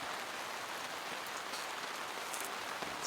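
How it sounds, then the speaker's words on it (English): Heavy rain drums steadily on a hot tent at a winter camp in freezing weather, a dense, constant patter of drops close by with no speech. "I'm pretty sure you can see all this water, this rain."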